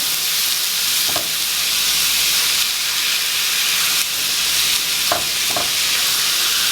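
Cottage pie filling of browned meat frying in a pan and stirred, a loud steady hiss of sizzling fat throughout with a handful of short utensil scrapes and clicks.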